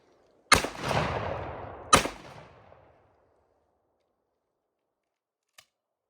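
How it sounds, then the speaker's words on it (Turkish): A Huğlu Ventus SGR9 over-under shotgun fires two loud, sharp test shots about a second and a half apart, each with a short echoing tail, followed by quiet and a faint click. "Test atışını yapıyoruz"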